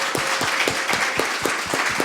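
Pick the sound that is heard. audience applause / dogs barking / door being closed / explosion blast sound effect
audience applause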